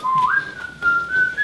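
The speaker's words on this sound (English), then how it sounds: "just down the corridor outside the front door, there's whistling" A person whistles outside the front door down a corridor, one sustained tune that steps up in pitch and holds, moderately loud against a low room hum.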